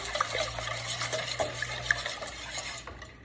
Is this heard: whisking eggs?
yes